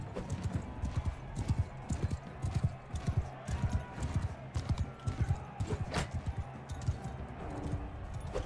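Horse hooves from Mount & Blade 2 Bannerlord clatter in a fast, steady gallop through a medieval battle, with a brief whinny near the middle and clashing noise mixed in.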